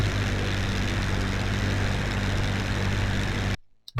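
A propeller airplane engine in the Flight Simulator X video game drones in a steady, low, buzzing hum, then cuts out abruptly near the end.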